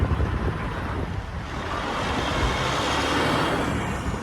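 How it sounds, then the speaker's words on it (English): Strong wind blows outdoors, buffeting the microphone with a steady, rushing roar that has no voices over it. "It's windy out here."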